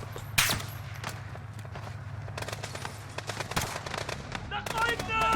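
Rapid bursts of gunfire in Call of Duty: Modern Warfare crackle over a steady low hum, with sharp shots scattered throughout and a louder burst near the start, under occasional talk.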